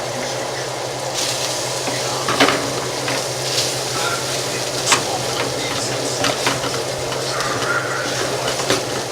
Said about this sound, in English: I'm going to saute this meat.